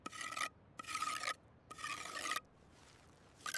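A trowel smooths new mortar into narrow joints between old stones during historic church masonry repair, three short rasping scrapes in steady rhythm, close and alone.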